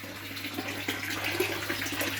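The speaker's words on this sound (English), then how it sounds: "So that's actually gravity fed water from an IBC over there that we filled up from the dam." Gravity-fed water from an IBC tank, filled from a dam, runs steadily out of an outlet as a continuous close splashing stream, with a low hum beneath and no talk.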